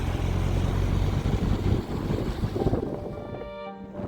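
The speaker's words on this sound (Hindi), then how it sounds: "हवाएं अब सिर्फ चल नहीं रही बल्कि टकरा रही है।" Strong wind blowing during snowfall in Spiti Valley, Himachal Pradesh, rushes and buffets close to the microphone in heavy gusts, then thins into a lighter whistle with a faint tonal hum near the end.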